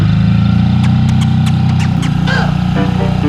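A sailing boat's engine runs with a loud, steady low drone on a Croatian sailing trip, a chugging idle that holds evenly throughout with faint clicks and knocks above it.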